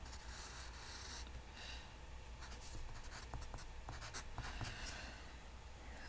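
A pencil scratches steadily across paper during a math lesson, close and quiet, with continuous strokes and small taps.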